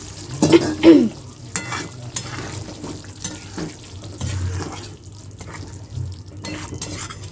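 Paneer pieces go into a hot pan of palak paneer and start sizzling, with a couple of louder splatters at first, then a softer sizzle with stirring and utensil clinks, close by and without speech.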